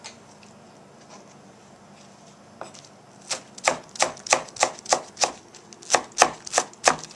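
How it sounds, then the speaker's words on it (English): A knife chops chives on a cutting board while Tibetan beef dumplings are prepared: after a quiet start, about a dozen crisp, evenly spaced chops ring out close and clear, with no talk. "I'm chopping chives."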